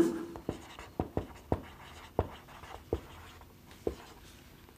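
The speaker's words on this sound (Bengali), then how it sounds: "চলো আমি লিখছি" Chalk or marker writing on a board during a primary-school teaching demonstration: a series of distinct taps and short strokes in an uneven rhythm, close and fairly quiet, with no speech.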